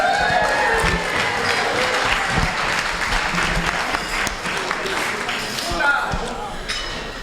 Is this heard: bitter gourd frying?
no